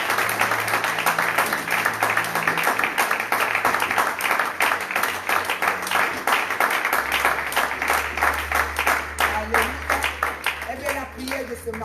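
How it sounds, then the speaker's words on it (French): Congregation clapping steadily through a morning prayer service, a dense continuous patter of many hands with a low sustained organ or keyboard tone beneath and some voices mixed in. "Et nous acclamons le Seigneur."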